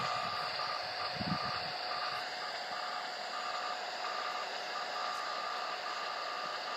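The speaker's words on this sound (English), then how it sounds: "I hope you can hear the little beeps." A faint, thin series of short beeps in uneven on-off bursts carries an NFC signal received through a radio scanner with LSB decoding, from an emitter at least 60 metres away, over a steady hiss of static.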